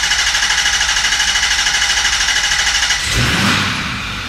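A Ford F350 with the 6.4L engine cranks over with fast, even, rhythmic pulses during a relative compression test, loud and close, before the cranking breaks off into a rougher, noisier burst.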